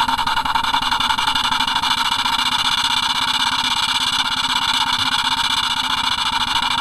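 Model vertical steam mill engine running through an experimental choof valve, exhaust pressure resonating in an outer chamber; a continuous, loud, rapid chuffing drone with steady rhythm and hiss, no voices.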